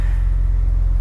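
A BMW M3 with the S54 straight-six engine gives a steady, loud, low droning rumble, heard alone over a brief stretch with no voices.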